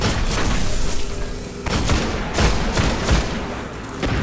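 Gunfire from a Servitor shooting at the player in the video game Destiny: loud, repeated bursts and booming thuds crowd the whole span, with a few sharper blasts standing out near the middle and end.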